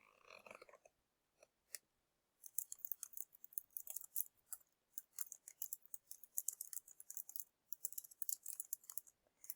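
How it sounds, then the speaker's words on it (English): Computer keyboard typing, quick bursts of light, crisp key clicks in an uneven rhythm with short pauses, close and fairly quiet. "I'm typing this out the first time"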